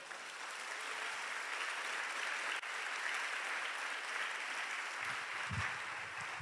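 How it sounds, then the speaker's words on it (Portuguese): A church congregation applauds during a sermon, a dense, sustained wash of clapping from many people at moderate distance, with a brief thump near the end. "dê um aplauso a Ele."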